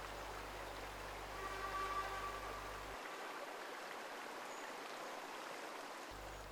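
A flowing stream winding through the Albert Kahn garden, its steady, soft watery rush continuous throughout with no break, fairly faint and even, with no voices.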